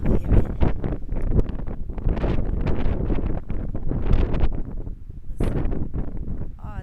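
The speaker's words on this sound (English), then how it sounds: "Oh, it's windy over here." Gusty outdoor wind buffets the microphone in a gully with a steady low roar that swells and eases throughout, close and loud.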